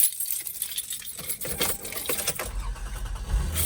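Car keys jangle and clink inside a parked car, a few loose metallic rattles bunched close together, followed by a brief low thump near the end.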